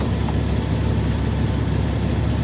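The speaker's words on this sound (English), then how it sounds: "now it's going to be hard because the truck started" A truck engine runs at a steady, continuous idle with a deep low rumble, close by and unbroken throughout.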